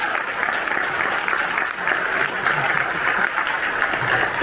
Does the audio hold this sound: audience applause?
yes